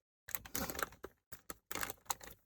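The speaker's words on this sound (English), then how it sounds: "Apologies for the rattly plastic." Plastic packaging crackles and rattles in quick, irregular bursts as a gift is opened by hand, fairly quiet and close, with short pauses between the crinkles and no talk.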